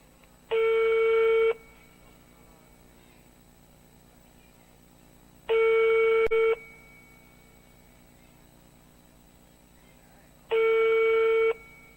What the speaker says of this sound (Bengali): লক্ষ্য রাখবেন আমরা ফোন দিচ্ছি হালিমকে